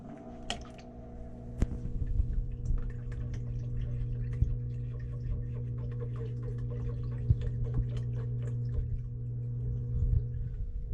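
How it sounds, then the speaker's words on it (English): Water spills over an aquarium sump weir like a small waterfall, a soft trickle with scattered drips and ticks over a steady low pump hum, close and continuous. "It's a nice little waterfall"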